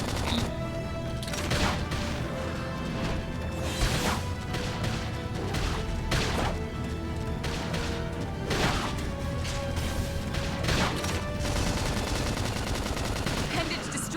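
Rapid, dense bursts of gunfire crackle through a combat scene in the video game Xenoblade Chronicles X, with loud volleys and sharp impacts repeating almost continuously over layered game sound and occasional voice callouts.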